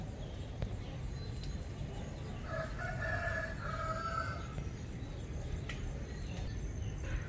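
A rooster in the countryside crows once at middle distance, its drawn-out call rising over a steady rural background of insects and low ambient hum.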